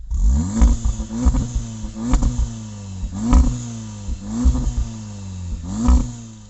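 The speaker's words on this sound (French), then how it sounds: "on va se faire le coup d'échappement" A Volkswagen Golf 7 R tuned to about 430 hp is revved from the rear at the exhaust, giving repeated short throttle blips over a rumbling idle, loud and close, with no talking.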